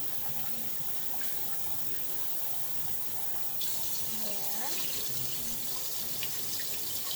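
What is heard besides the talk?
rinsing something under running tap water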